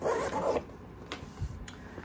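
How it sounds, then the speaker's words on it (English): A zipper on the main compartment of a Wandrd Tech Bag Large is pulled open in one quick raspy stroke, followed by soft handling rustles and light taps, close and quiet. "same deal with the zipper"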